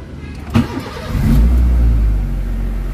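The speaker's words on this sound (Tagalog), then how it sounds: "Start natin ang makina." A Honda Fit/Jazz with an electrical fault and an erratic idle: a brief starter crank, then the engine catches and revs up before settling into a steady, loud, close idle.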